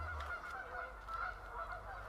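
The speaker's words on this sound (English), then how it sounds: "Those geese are going nuts over there." A flock of geese honks continuously and excitedly at a moderate distance, the calls overlapping in a steady chorus with no talking.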